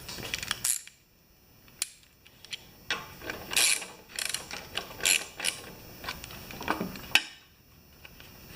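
A ratchet wrench tightens bolts on a Poulan Pro carburetor, giving bursts of quick metallic clicking and rattling separated by short pauses, close by and with no talking.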